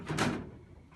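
Under quiet room tone, a small plastic part on an Epson SpectroScan ILS20 gives one short, soft snap as it clips back into its track.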